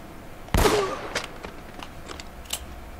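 A single loud, close gunshot from the action game Uncharted: Drake's Fortune, followed by a handful of fainter, scattered shots and clicks as the sound fades.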